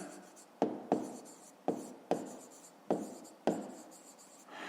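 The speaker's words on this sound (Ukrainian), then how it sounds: "Записуємо в дужках чого кілометра." Close scratching of a pen on paper while solving a grade-5 math problem, six or so short writing strokes with sharp onsets and trailing fades, no talking over them.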